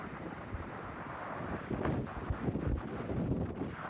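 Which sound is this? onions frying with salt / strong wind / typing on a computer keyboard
strong wind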